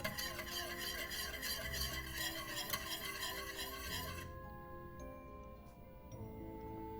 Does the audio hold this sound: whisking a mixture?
yes